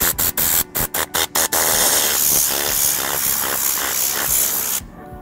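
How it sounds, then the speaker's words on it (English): Air compressor blasting air through a cleaning tool inside a car: a few short bursts of hissing air, then one long continuous loud spray that cuts off abruptly near the end. "I'm gonna make sure that I got my air compressor on"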